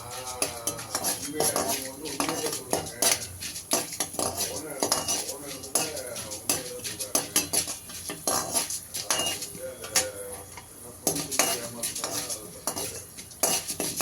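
Ragi vermicelli with onions stirred in a metal pan, with repeated scraping and clinking of a spoon against the pan in an irregular rhythm, close and fairly loud, with faint sizzling underneath.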